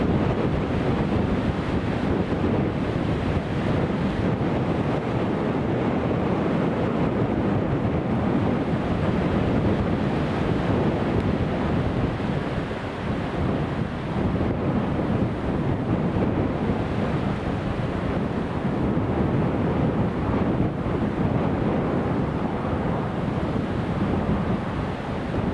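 Steady wind roars outdoors at Newcastle International Airport, a constant broadband rush with gusty microphone buffeting throughout and no voices.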